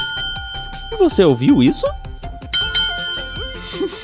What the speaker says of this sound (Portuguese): Um sino. Escute.